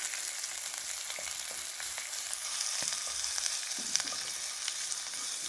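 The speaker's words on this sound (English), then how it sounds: "we want that to go until the garlic and the basil is aromatic" Garlic and fresh basil sizzle steadily in a hot pan, a continuous crackling fry with scattered pops that holds at an even level throughout.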